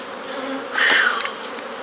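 Honeybees buzz during a hive inspection, a close, steady insect drone that briefly swells louder as a bee passes near.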